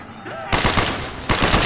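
Rapid automatic gunfire from a new gun in Call of Duty: Black Ops zombies mode comes in two loud, close bursts after a brief quiet start.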